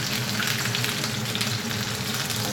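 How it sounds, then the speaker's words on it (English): Chicken pieces browning in a lightly oiled pan for braised five-spice chicken, a close, continuous sizzle and crackle with no talking. "I'll just keep frying this."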